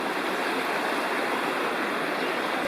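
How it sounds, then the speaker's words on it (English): Little Gizzard Creek in South Cumberland State Park, Tennessee, flowing beneath a footbridge above the falls, heard as a steady, loud, broadband rush of water with no voices. "here's the bridge across Little Gizzard Creek above the falls"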